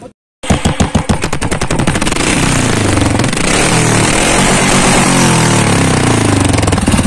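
A Royal Enfield Classic 350 motorcycle running without its silencer bursts into loud, rapid crackling backfires that settle into a sustained, harsh, close exhaust roar, with no voices.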